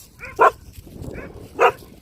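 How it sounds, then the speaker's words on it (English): A cadaver-detection dog gives two sharp, loud barks about a second apart, with softer whines and low murmuring in between. "this is not the kind of bark alert we would want"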